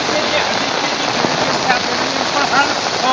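Steady monsoon rain pours over a waterlogged cricket ground, a dense, loud hiss with no pause and faint scattered splashes in it.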